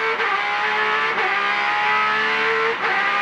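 A Porsche sports car with a six-gear gearbox, running near 9,000 revs in a Rolex Sports Car Series race, screams loudly and close, its engine pitch climbing and dropping through quick gear changes.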